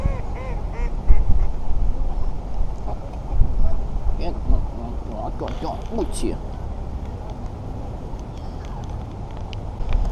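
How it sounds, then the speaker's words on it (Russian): A flock of ducks quacking and squabbling while being fed at a waterside in autumn, with gulls joining in, calls scattered and fairly close over steady wind noise. "Ну тут нельзя, наверное, кормить уток"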